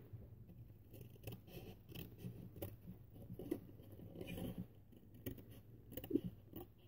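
Scissors cut the centre out of a piece of card for a gift card holder, giving soft, close scraping snips that repeat unevenly over a low background hum.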